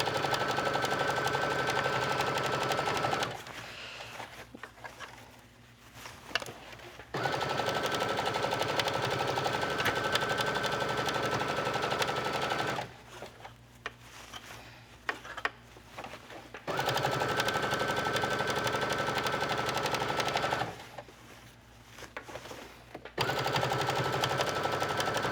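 A sewing machine runs a lengthened straight stitch around a dress being turned into a two-piece garment, steady close whirring in three long runs with short pauses between.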